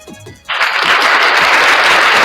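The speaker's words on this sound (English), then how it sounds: "Let's give him an applause real quick." Loud applause from a podcast studio audience bursts in suddenly after a brief spoken lead-in and holds steady, dense and close, through the rest of the moment.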